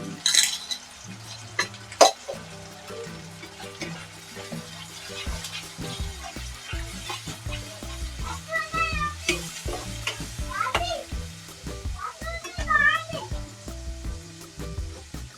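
Steady sizzle of blended tomato puree frying in a pan for pasta, stirred with scraping and clinking utensil sounds, a voice briefly talking in between.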